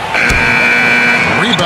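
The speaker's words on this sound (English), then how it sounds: "Oh, buzzer! Knock it down! Right at the horn." In NBA 2K14, during a Dallas Mavericks vs Miami Heat game, the end-of-period horn blares as one loud, steady electronic tone lasting just over a second.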